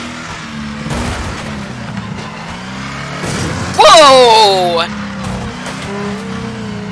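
A car crash in the racing game Wreckfest: engines drone, then tires squeal loudly in a rising skid with scattered thumps of impact. A man exclaims over the noise.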